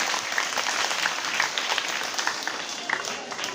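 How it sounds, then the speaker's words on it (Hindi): Audience applause at a school comedy show in Khaga, Fatehpur: dense, steady clapping from a crowd holding for several seconds at an even, lively level. "जो लोग हमारे पास आ गए एक बार इनके लिए जोरदार तालियां बजा दीजिए"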